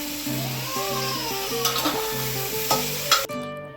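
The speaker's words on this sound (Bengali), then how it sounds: "একটু নাড়িয়ে নেব।" Spices with turmeric fry in a pan as they are stirred, giving a steady sizzle with a few scraping strokes, close up, over a melodic background.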